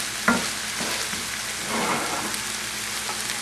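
Brown and wild rice being stirred in a pan, a soft continuous sizzle with scraping spoon strokes, close and steady, no talking.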